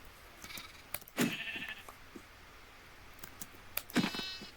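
A Minecraft sheep bleats twice, short and fairly clear, separated by a quiet pause with faint background noise.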